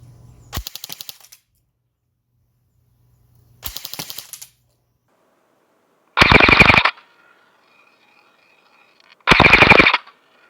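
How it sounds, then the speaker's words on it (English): Airsoft gun firing full-auto bursts from 40 feet away: four short, sharp rattling volleys spaced a few seconds apart, the last two loud and close, with near silence between them. "Now I'm at 40 feet and I'm going to shoot in full auto"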